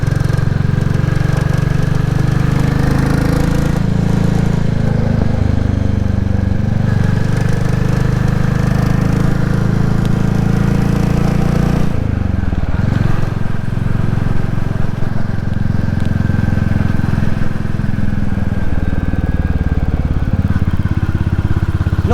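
Royal Enfield Classic 350 motorcycle ridden along country lanes, its single-cylinder engine thumping steadily and loudly close by, pitch rising and falling through gear changes, with wind buffeting throughout.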